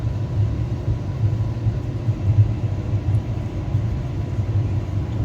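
Express train 13189 Sealdah–Balurghat running just after pulling out of Naihati, a steady low rumble with rhythmic faint wheel thumps, continuous and without voices.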